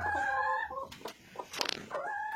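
Guinea fowl calling on a farm, a few harsh nasal cries and rattling squawks up close, loud and alone with no talking.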